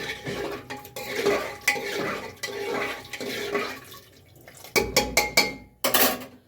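Potatoes and peas go into a pressure cooker in a home kitchen. Metal pots and utensils clank, scrape and stir, with water sloshing, followed by several sharp knocks near the end.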